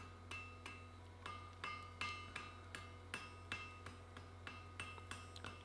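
Hammer planishing a forged shear blank at dull heat on an anvil, rapid ringing metallic strikes in an even rhythm, about two or three blows per second, close and alone.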